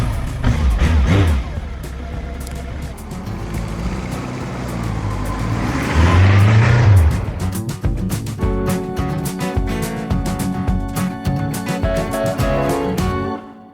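An old Honda motorcycle engine rumbles nearby, running steadily, then rising sharply and revving as the bike pulls away, with repeated gear changes and engine pulses continuing afterward.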